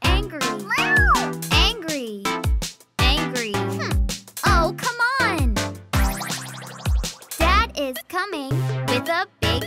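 A voice imitates an angry cat's meow over and over in a sung kindergarten phonics rap, the playful yowls loud and close and mixed with singing and talking over the beat.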